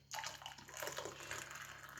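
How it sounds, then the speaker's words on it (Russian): Freshly brewed black tea is poured into a cup at a home breakfast table, a close, steady liquid splash that starts abruptly and runs continuously for about two seconds with no talking. "Чай наливаю."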